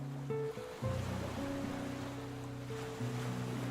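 Ocean waves washing onto a tropical beach, a soft steady surf rush, with a calm tonal drone and no talking.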